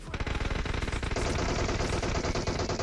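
Rapid automatic gunfire in the mobile shooter game PUBG Mobile, a fast, dense burst of shots rattling steadily for about three seconds, heard alone without talk.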